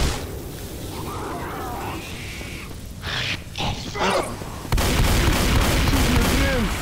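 Rapid gunfire and chaotic action from the co-op zombie shooter Left 4 Dead 2, loud and dense, with bursts of shots over a steady game din that grows heavier and louder partway through.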